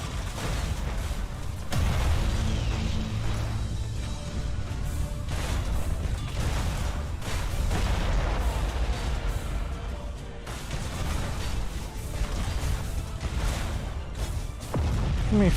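Warship broadsides in the space strategy game Battlefleet Gothic Armada II, with dense, continuous rumbling booms and crashes layered with mechanical clatter, sustained without pause throughout.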